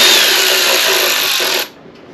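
Power driver with a 10mm socket and short extension spinning out belt cover screws on an Earthquake rear tine tiller, one steady close whirring burst that cuts off abruptly.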